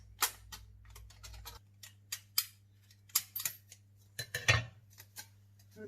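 Sharp, irregular snips of scissors cutting through thin aluminium sheet, close up, with short pauses between cuts and a low hum underneath.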